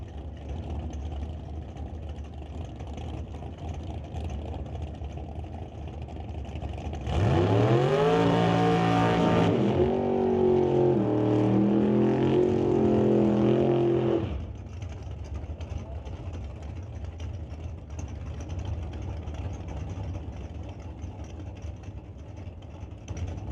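Super Pro drag race cars launch from the starting line with a loud rising engine roar that sweeps upward through the gears for several seconds and then cuts off, leaving a steady background rumble and crowd noise.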